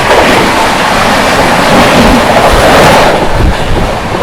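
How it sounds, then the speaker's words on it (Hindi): An Indian express train, the Ranchi Rajdhani Express, rushes past at speed in a loud, continuous roar of wind and rumbling wheels that fills the whole moment without a break. "उधर से आ गई रांची राजधानी"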